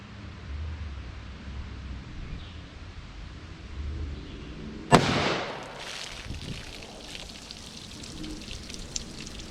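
A .357 Magnum Buffalo Bore heavy round fired into a pack of baloney gives one sharp, loud gunshot crack mid-clip, followed by scattered debris and outdoor ambience.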